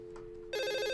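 A telephone rings in an office, a bright electronic ring that cuts in abruptly halfway through after a faint steady tone, loud and close with no voices.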